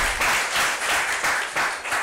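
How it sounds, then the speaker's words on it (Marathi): Audience applause at a World Health Day 2025 gathering, a steady wash of many hands clapping together, fairly loud and continuous with slight swells throughout. "त्यांच्यासाठी पण टाळ्या वाजल्या पाहिजे"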